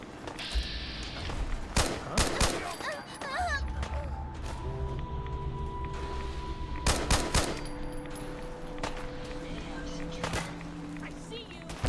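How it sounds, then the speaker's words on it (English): Bursts of gunfire in Fallout 4 with a heavily modded setup, sharp volleys at around two and seven seconds over a steady ambient game drone and mechanical tones, with a voice talking through it. "You're hearing those gunshots,"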